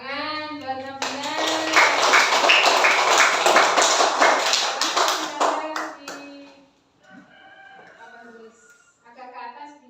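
Classmates give a round of hand clapping for a student named Nabila in an Indonesian school classroom, a dense burst of claps lasting several seconds before fading, with a teacher's voice speaking over the start and after.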